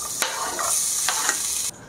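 Nasi goreng stirred and fried in a pan: a steady broadband sizzle runs throughout, broken by a few sharp spatula scrapes, then drops off abruptly near the end; no voices.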